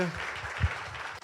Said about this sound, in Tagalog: Yung malakas nga na palakpak sa ating Panginoon